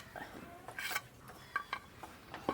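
A spoon stirs cherupayar parippu payasam, a green gram dal pudding with dry ginger and cardamom powder, in a pot, giving quiet scrapes and a few light metallic clinks at an uneven pace.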